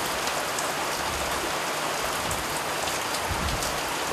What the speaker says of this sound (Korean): 칠흑 같은 어둠이 드리워진 바다 위로 굵은 빗줄기가 쏟아지기 시작했다